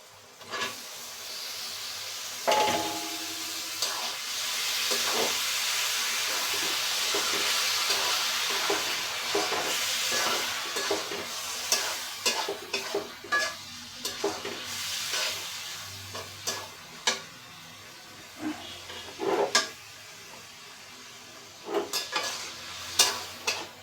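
Fish sizzles and hisses in hot oil in a pan, a broad steady frying noise with scattered clinks and scrapes of stirring that grow sharper and more frequent toward the end.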